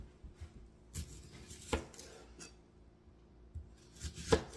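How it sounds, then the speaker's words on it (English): A knife chopping an onion on a board in a few sharp, spaced strikes, close and fairly quiet, with soft rubbing sounds between the cuts. "first we're going to start chopping this onion"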